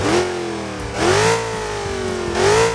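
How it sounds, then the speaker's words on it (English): A Pontiac GTO Judge's 400-cubic-inch (6.5-litre) Ram Air V8 revs hard three times in a video game, each burst rising in pitch then settling into a rumbling idle between, loud and close with no voices. "This is powered by a Pontiac Ram Air engine. It's a V8, 400 cubic inches"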